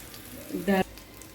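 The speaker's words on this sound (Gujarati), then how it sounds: "આ કૂક થયેલા છે એટલે ગરમ તેલમાં સરસ આમ ક્રિસ્પી કરી લેવાના છે" Sindhi pakoda crisping in hot oil make a soft, even sizzle in the background, briefly covered by a short burst of speech.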